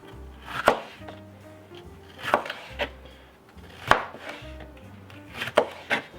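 Knife chopping bell peppers on a cutting board, with several sharp, distinct chops spaced about a second or two apart, close and fairly loud, over a faint low background hum.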